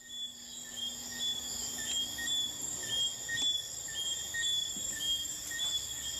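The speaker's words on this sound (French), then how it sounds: "On entend des criquets, des grenouilles et d'autres trucs dehors." Crickets trill outside at night, heard from within the old dungeon of Rose Hall. They make a steady, shimmering high chirping that carries evenly for several seconds, with faint scattered clicks and no talking.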